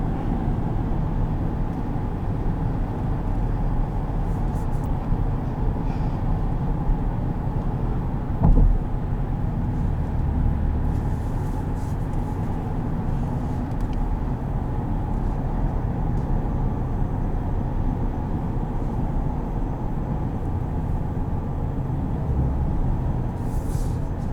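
A 2021 GMC Canyon Elevation pickup heard from inside the cabin as the engine pulls hard at high RPM, a steady loud drone with road noise that holds throughout.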